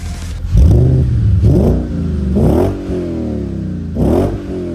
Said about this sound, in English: once we were up to temp, I could give the engine a little rev